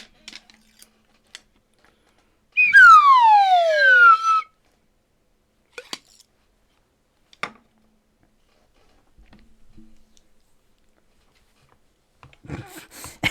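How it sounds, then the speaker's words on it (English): A slide whistle effect from the Phoenix Wright: Justice For All video game plays a single descending swoop lasting about two seconds, followed by sparse faint clicks and quiet stretches. "Awkward slide whistle noise."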